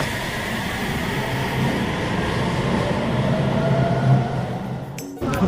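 An underground metro train in Rome rumbles steadily and loudly throughout, a continuous low roar of rail travel with faint metallic clinks, ending in a brief sharp break near the end.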